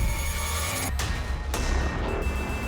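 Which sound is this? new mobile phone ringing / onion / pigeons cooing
new mobile phone ringing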